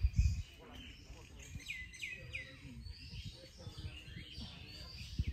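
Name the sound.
birds calling on a village morning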